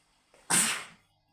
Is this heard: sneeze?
yes